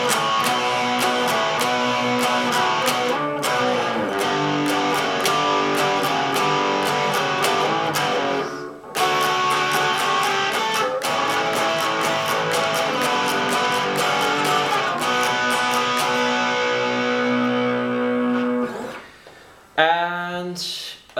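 Electric guitar plays the second part of the intro to a song: a dense, bright, steady riff that runs unbroken except for a brief gap midway, then ends with a few scratchy final strums.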